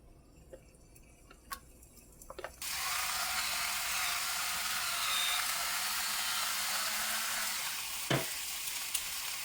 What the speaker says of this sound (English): I'm going to start just cooking the meat in here.